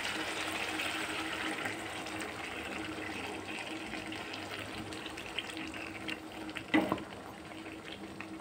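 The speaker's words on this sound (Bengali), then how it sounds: "জল লাগবে মনে হচ্ছে, একটু জল দিয়ে দিচ্ছি।" Water poured into a pot of cooking meat, a steady close rush and hiss of liquid over bubbling and sizzling, with a small splash or knock near the end.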